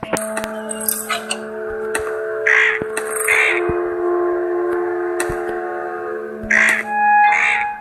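A crow caws repeatedly in an Android action game, several harsh calls in pairs spread across the scene amid clicks, taps and steady tonal game music.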